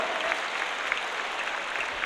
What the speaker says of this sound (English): Let's applaud for ourselves